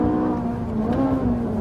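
A Ferrari 458 Italia's 570-horsepower V8 screams at high revs, a loud, close, sustained engine howl with a steady rising pitch and no voices over it.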